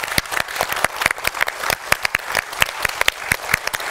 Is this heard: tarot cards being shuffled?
no